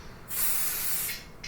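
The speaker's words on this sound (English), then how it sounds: "you have to try and lightly spray it so it's not like too thick of a coat" An aerosol spray paint can releases about one second of steady, close hiss while lightly coating a custom doll, followed by a shorter second burst.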